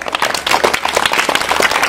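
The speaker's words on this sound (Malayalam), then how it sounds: "നല്ല ക്ലാപ്പ് കൊടുക്കണം." Children at a free volleyball coaching camp clap in a brief burst of dense, scattered applause, close and fairly loud.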